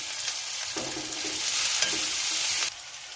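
Chopped onion and green chilli tossed into hot oil, producing a close, hissing sizzle that swells in the middle and then drops off sharply near the end.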